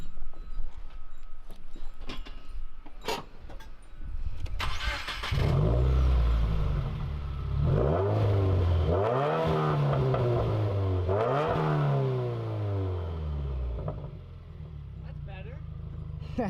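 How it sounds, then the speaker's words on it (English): A 2018 Subaru WRX with its mufflers deleted fires up from a semi-cold start: a brief crank, a loud raw exhaust bark, then several rising and falling revs before settling toward a rumbling idle. "on a 2018 WRX with no mufflers."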